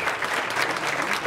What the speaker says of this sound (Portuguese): a salva de palmas para o nosso garçom!